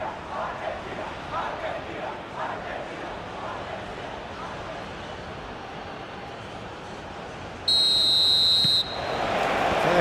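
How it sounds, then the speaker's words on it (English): A referee's whistle starts the match in eFootball PES 21, a World Cup 2026 final simulation, as one bright, steady blast of about a second rising over the stadium crowd noise and commentary. "There's the whistle, and here we go."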